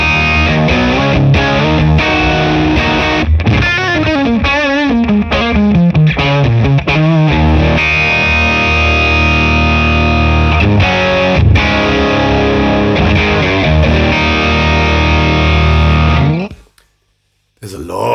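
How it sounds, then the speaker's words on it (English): Marshall Origin guitar amp head cranked to its high-gain setting, a loud distorted electric guitar playing chords and lead lines almost continuously before stopping abruptly near the end, with a voice briefly audible. "That's one loud amp."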